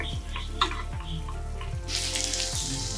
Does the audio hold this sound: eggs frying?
yes